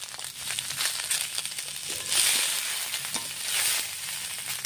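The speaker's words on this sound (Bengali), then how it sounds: "দেখো আলুগুলোকে ভালো করে ভেজে নিয়ে আমি এর মধ্যে সয়াবিনটা দিয়ে দিয়েছি।" Potatoes and soybean chunks frying in a pan give a steady hiss and crackle, with scraping and rustling bursts as the pieces are moved about, close and fairly loud, with no talking.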